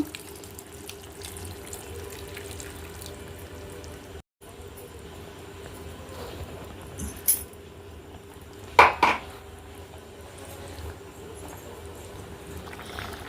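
Steady running water pours continuously into a cooking pot of raw shrimp and soy chunk curry, with a couple of brief metallic clinks of a pot or utensil partway through.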